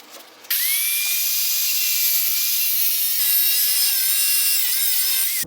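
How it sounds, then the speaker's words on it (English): An angle grinder with a cutting wheel slices through steel bar stock, giving a loud, steady high-pitched whine that holds for about five seconds after a brief start and then cuts off abruptly. "we're gonna cut that off with an angle grinder fitted with a cutting wheel"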